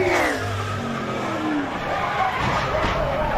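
A NASCAR race car spins out in a wreck at the tri-oval. Engines roar and fall in pitch, and a hard tire slide scrubs beneath them, all heard at a distance through steady broadband crowd and track noise.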